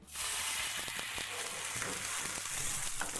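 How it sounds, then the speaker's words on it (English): A hot pan hisses loudly the instant sherry is poured in to deglaze it, a steady close sizzle with a few small crackles and no talk over it. "So now we're gonna deglaze with some sherry."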